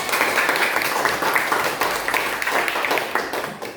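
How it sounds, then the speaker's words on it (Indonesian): A classroom of students clapping during an Indonesian language lesson, quick, bright hand claps with a loose, uneven rhythm that comes close and fairly loud, then thins out toward the end. "tepuk tangan buat kita semuanya"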